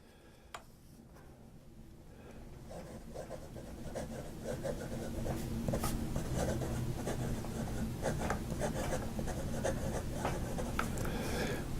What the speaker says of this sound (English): we'll just do one more writing example and call it a day